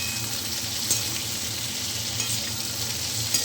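Sliced onions and green chillies frying in oil in a pan; an even, close, bright sizzle with a few faint stirring clicks, no speech.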